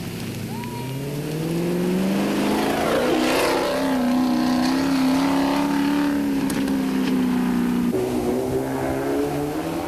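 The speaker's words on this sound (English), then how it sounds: "Api Reinicker and Robin Harten next up in the Bankfin Toyota Land Cruiser" Bankfin Toyota Land Cruiser rally car racing in the 1995 Sugarbelt 400 rally, its loud engine droning and rising through the gears for about ten seconds, steady and close with shifting pitch.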